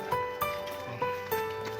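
A few sharp hoof knocks from a horse at an irregular pace over a steady hum and tonal background noise, fairly faint.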